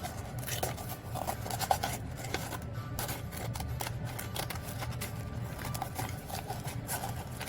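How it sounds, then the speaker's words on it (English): Scissors snip around the base of a paper cone for a gnome Christmas tree, a quick run of close, soft cuts and rustling paper at a steady pace. "Take your scissors, and what we're gonna do is just trim off so that we have an even base."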